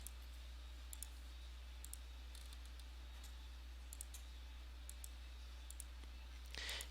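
Several soft, sharp mouse clicks while ticking boxes in an online questionnaire, faint and spaced out over a steady low hum, with no talking.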